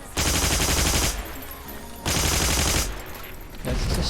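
An M2 machine gun in the shooter game Heroes & Generals fires in sustained automatic bursts, loud and close, with three long volleys separated by short gaps and no speech.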